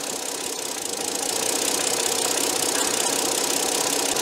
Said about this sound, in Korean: 엔진이 숨 넘어갈 듯이 까라락 꼬르륵 꼴까닥 뭐 이런 거 있잖아요.